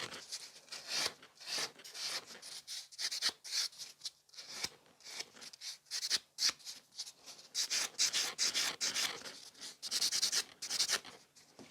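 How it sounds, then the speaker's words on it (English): A grey nail buffer works around the cuticle area of a gel manicure with steady, close, scratchy rubbing strokes in quick irregular bursts, with no talk. "I love the grey buffer because when you're going around the cuticle area, you're kind of exfoliating the cuticle as well"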